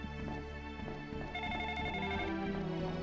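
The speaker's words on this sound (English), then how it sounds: "I'll answer the phone first." A telephone rings repeatedly in The Ring: Terror's Realm video game, a steady electronic ringing that becomes brighter partway through, faint in the mix with no speech.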